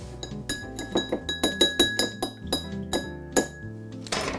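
Ice cubes clink sharply against glass while being added to a peony martini cocktail mix, a rapid run of about a dozen bright, close, ringing clinks with no talking.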